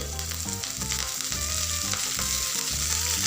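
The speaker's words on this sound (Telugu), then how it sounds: "ఇప్పుడు ఇలా వేగిన తర్వాత మనం కడిగి పెట్టుకున్న ఆకుకూరని వేసేసుకోవాలి." Washed ponnaganti greens dropped into hot tempering oil give a loud, steady sizzle and frying hiss that runs without a break, with a low tonal hum underneath.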